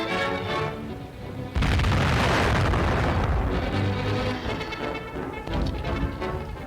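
Naval mines detonate as Japanese gunboats sweep the Yangtze River in central China, a sudden heavy boom bursting in and rolling on as a long loud rumble, heard on an old newsreel soundtrack.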